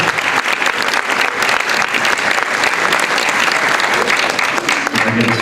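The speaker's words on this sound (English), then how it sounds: "Another round of applause." Loud, full applause from a gala audience fills the room, a dense sustained roar of many hands clapping with crowd noise mixed in.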